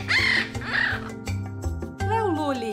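A parakeet's call repeats in a few bright chirping bursts over steady background music, part of a children's animal-sounds lesson about birds.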